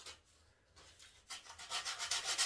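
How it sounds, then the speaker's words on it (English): Sandpaper rasps against a raw, unsanded wooden box edge in steady, rhythmic strokes that grow louder and quicker, close by with no talking. "you just sand down all the edges of it"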